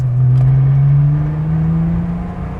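Air-cooled Porsche 911 fitted with 991 GT3 Cup suspension, its engine holding a loud, steady, slightly rising rev as the rear slides, droning close up with no talk over it.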